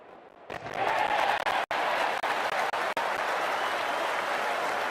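Applause from a big cricket crowd as players walk out, swelling suddenly after a quiet start into a dense, sustained roar of clapping that stays loud to the end, with a commentator's voice faintly present.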